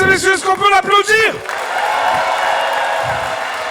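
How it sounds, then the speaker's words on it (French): A comedy show audience bursts into applause and cheering after a man's loud, drawn-out shouts, the clapping then carrying on as a dense, steady roar from the crowd. "mesdames et messieurs, est-ce qu'on peut l'applaudir?"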